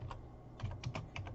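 Quiet clicking keystrokes on a computer keyboard come in a quick irregular run, soft and somewhat distant over a low steady background hum.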